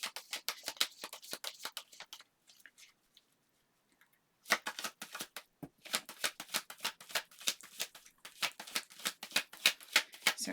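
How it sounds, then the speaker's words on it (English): Rapid papery flicks of cards being shuffled in bursts, close and quiet, with a short pause of near silence midway before the riffling resumes. "we will shuffle through those"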